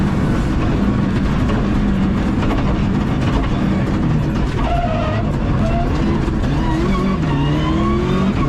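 Rally car driving flat out on a stage with new brakes, engine roaring loud and close throughout with rising and falling revs and gear changes, no talk.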